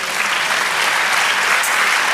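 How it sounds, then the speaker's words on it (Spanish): Steady, dense applause from a church congregation, sustained and even throughout with no pauses. "Den un aplauso al Señor."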